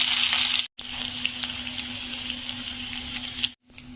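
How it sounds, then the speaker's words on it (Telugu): Garlic, cumin, mustard seeds and dried chillies fry in hot oil with a steady crackling sizzle, loud at first and then settling, broken by two brief cuts to silence. "ఒక స్పూను జీలకర్ర వేసుకుంటున్నాండి ఆవాలు ఎండుమిర్చి అండి ఇందులోనే వెల్లుల్లి వేసేస్తున్నాం"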